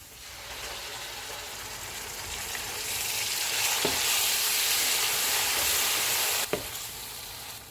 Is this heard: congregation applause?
no